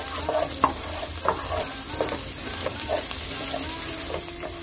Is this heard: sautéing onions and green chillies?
yes